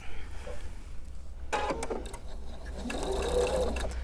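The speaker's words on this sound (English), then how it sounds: "I sew a couple of stitches" A sewing machine running briefly to sew a couple of stitches, giving a short, soft mechanical whir and clatter at close range against a quiet room hum, with no talk over it.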